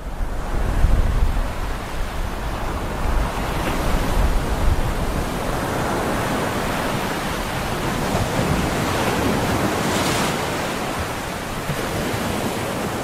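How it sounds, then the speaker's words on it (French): Ocean waves break and surge continuously along the De Hoop and Kogelberg coast of South Africa, a loud broad rush of surf with swells rising and falling. "Les vagues sont puissantes"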